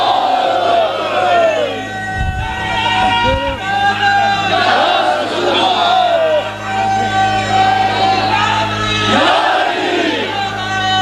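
A large crowd at a Shab-e-Barat Islamic gathering chants religious slogans in loud unison, with repeated rising shouts filling the space and voices blending into a dense roar.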